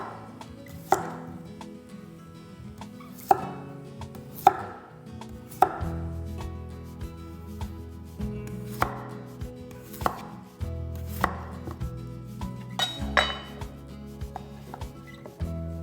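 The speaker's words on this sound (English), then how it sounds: "Cut them into smaller pieces for even cooking" Steady chopping of 500 grams of skin-on potatoes into smaller pieces, a run of sharp, close knife strikes in an uneven rhythm with short pauses, heard alone.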